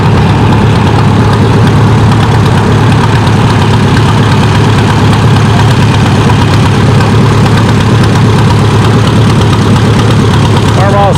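Farmall 60 tractor engine pulling a sled at a tractor pull, a loud continuous heavy drone throughout, with an announcer's voice faintly under the engine noise.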